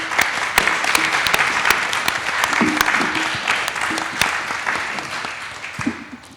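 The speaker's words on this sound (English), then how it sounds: "Please give him a round of applause." Audience applause fills a panel discussion hall, a steady wash of clapping hands holding for several seconds before tapering off at the end.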